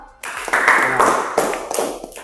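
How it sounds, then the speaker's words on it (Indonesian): A short burst of clapping from a classroom group breaks out suddenly, dense and close, then thins out and fades within a couple of seconds. "Ya, beri tepuk tangan."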